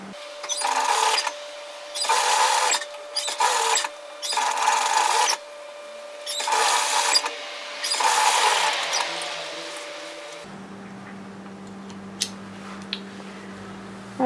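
Sewing machine stitching a sleeve seam on a puff sleeve top, several short bursts of buzzing stitching separated by brief pauses, then stopping and giving way to a low hum with scattered faint clicks.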